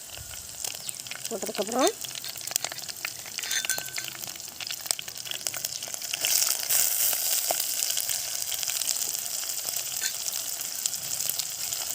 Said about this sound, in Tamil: நம்ம கருவேப்பிலை போட்டுடலாம். அதுக்கப்புறம் வந்து பச்சை மிளகாய் போட்டுடலாங்க.